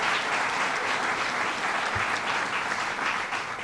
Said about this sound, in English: So give him a big round of applause.